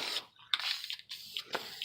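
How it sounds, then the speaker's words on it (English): Spray paint hisses onto Nerf Quadrant blaster pieces in several short, close bursts separated by brief pauses. "spray a nice, thin, even coat over both the pieces"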